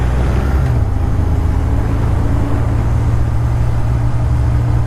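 Car engine droning steadily and close as the driver shifts into a somewhat chunky second gear, a loud continuous low hum with road rumble and no clear break.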